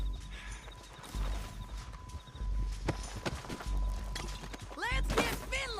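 Horse hooves clip-clop in Red Dead Redemption 2, an uneven rhythm of thuds on the ground mixed with clattering, rustling action noise and faint voices at moderate distance.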